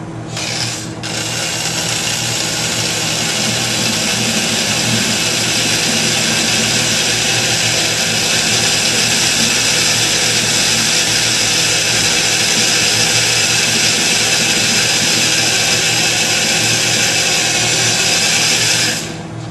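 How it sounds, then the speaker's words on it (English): A steady, high-pitched power drill whines continuously at close range with a grinding, rubbing edge, boring slowly into metal on a Philco 50-920 tube radio for nearly twenty seconds. "I'm going to try drilling very slowly"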